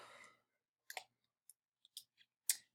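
Several sparse, faint clicks from calculator buttons being pressed one at a time with uneven gaps, preceded by a brief breathy sound.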